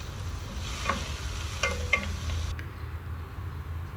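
Chopped carrot, onion, ginger and green chilli sizzle in a pan with a steady, soft frying hiss and a few light scrapes of stirring.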